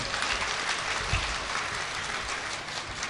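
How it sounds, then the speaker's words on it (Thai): Applause from an audience at a Thai red-shirt (UDD) press conference, a dense, steady wash of many hands clapping throughout with no voices. "ปรบมือให้กับรัฐบาล"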